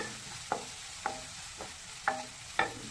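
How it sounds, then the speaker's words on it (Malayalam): Tomato frying in oil for egg bhurji, a soft low sizzle broken by five distinct spatula scrapes and taps against the pan, close and evenly spaced, with no voices. "അടുത്തത് തക്കാളി ഇട്ട് കൊടുക്കാം"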